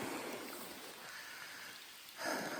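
Steady rain falls on a river around a small boat, a dense even hiss with a brief quieter dip before the patter swells louder again near the end.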